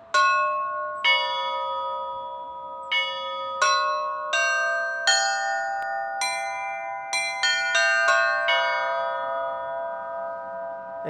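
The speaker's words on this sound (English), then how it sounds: "this trio of bells in the right hand forms a nice minor triad" Church tower bells at Holy Trinity Cathedral in San Francisco, including a trio tuned to a minor triad, struck one after another in an irregular, quickening sequence, each clear ringing tone overlapping the fading hum of the last, close and alone.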